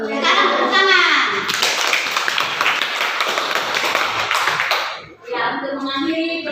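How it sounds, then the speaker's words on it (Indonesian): Fourth-grade primary schoolchildren clapping their hands together in a classroom, a burst of lively collective applause lasting several seconds, with someone talking before it and again after it. "Sekarang tepuk tangan."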